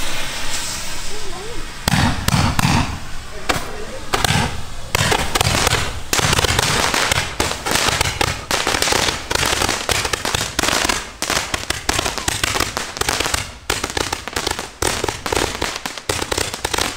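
New Year's Eve fireworks and firecrackers, including a Gatling-gun style barrage, crackle and bang continuously for the whole stretch, loud and dense with rapid pops and louder bursts layered together.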